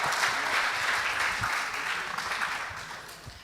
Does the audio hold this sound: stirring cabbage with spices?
no